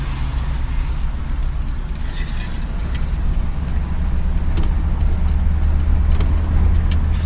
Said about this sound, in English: The brakes you can hear dragging, but we're driving it